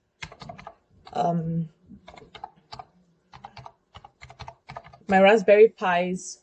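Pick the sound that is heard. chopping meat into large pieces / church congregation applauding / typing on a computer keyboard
typing on a computer keyboard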